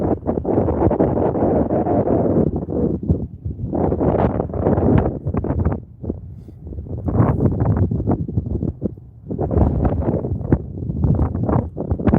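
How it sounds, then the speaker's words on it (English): Gusty wind buffets the microphone beside a canal at a fishing spot, coming in loud rumbling bursts with short lulls between them. "The wind's kind of starting to pick up."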